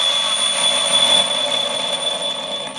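Electronic tone from a 300A Alien ESC in a Redcat Rampage MT RC truck during programming, a steady high-pitched continuous beep over a loud whirring background, with no talk.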